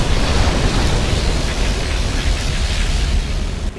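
A particle cannon blast in the video game C&C Generals Zero Hour booms as a loud, sustained rumbling roar that fills the whole moment before tailing off slightly at the end.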